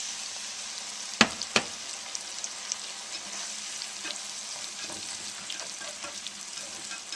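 A dash of wine poured into a hot pan of tomato sauce, two sharp clanks followed by a steady, close sizzle with light crackles and occasional faint taps.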